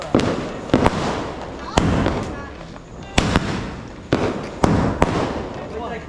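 Fireworks and firecrackers bursting at a family Diwali celebration at night, a rapid series of sharp close bangs and cracks, some very loud, with ongoing crackle between blasts and people talking and exclaiming throughout.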